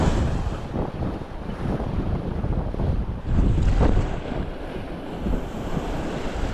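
Rough sea waves breaking on a shore during traditional fishing, a steady loud wash of surf with gusty wind noise buffeting the microphone and a heavier surge of water midway.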